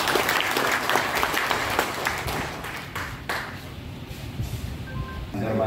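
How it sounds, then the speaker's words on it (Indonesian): Hearty applause from a gathering of ambulance drivers at a Muhammadiyah meeting in Kendal, loud at first and gradually thinning out, with a brief ringing tone near the end. "tepuk tangan untuk beliau."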